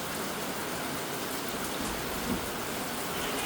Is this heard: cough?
no